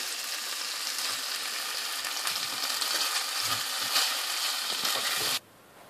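Steady hot oil sizzling and crackling for tempering a chicken karahi curry, close and fairly loud, running evenly for several seconds before cutting off abruptly.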